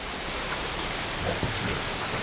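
A steady, broadband hiss of water spraying from an underground garden sprinkler outdoors, continuous and fairly even throughout, with no voices.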